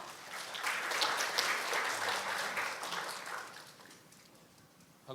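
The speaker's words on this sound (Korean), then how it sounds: "여러분 환영의 박수를 보내주시기 바랍니다" Welcoming applause from a conference audience at a Qlik product keynote in Korea, a crowd clapping that swells quickly, holds for a few seconds, then thins and fades out.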